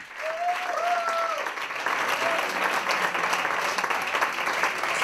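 Audience applause follows a comedy monologue at a stand-up contest in a Catalan bar, a dense, steady wash of clapping lasting several seconds, with a voice speaking briefly over it near the start.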